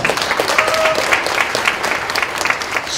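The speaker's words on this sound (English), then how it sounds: "Let's give her a round of applause" A crowd at a school board meeting applauding steadily, dense clapping filling the whole stretch with a brief whistle-like tone early on.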